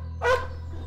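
A dog gives one short, sharp bark close by over a low steady hum, with no one talking.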